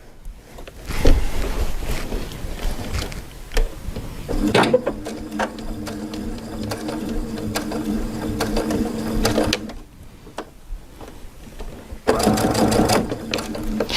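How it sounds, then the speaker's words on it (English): Sewing machine with a hemmer foot stitching fabric binding, bursts of rapid mechanical needle clatter separated by short pauses, close and loud, with no talking. "So I'm going to start stitching on this binding piece and see where my needle needs to be."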